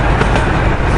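Train rolling along rails heard from on board during a ride, a loud, dense rumble with steady rattling and faint clickety-clack, continuous throughout with no talk.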